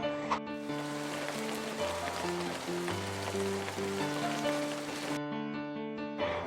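A continuous hiss of falling rain runs beneath a melodic instrumental tune that briefly drops out near the end.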